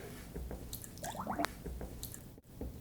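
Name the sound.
cleaning soaked trumpet tuning slides with a cleaning snake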